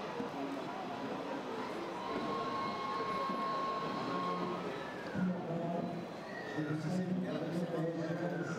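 A model railway train pulling ore wagons on a layout rolls past with a steady low rumble and rattle that continues throughout, with someone talking over it.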